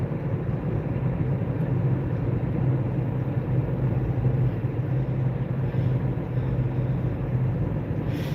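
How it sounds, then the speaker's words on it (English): Big trucks and traffic rolling through a foggy intersection, heard as a steady, dense low rumble of engines and tires at moderate distance, continuous without distinct pass-bys. "Lots of big trucks."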